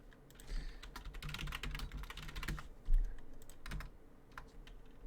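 Rapid typing on a computer keyboard, close and fairly quiet, with quick clusters of key clicks and a heavier key thump partway through, and no talking.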